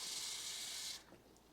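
Water runs into a pot while sauced hotdogs are being made, a steady bright hissing pour close by for about a second, then it stops and leaves faint quiet room sound.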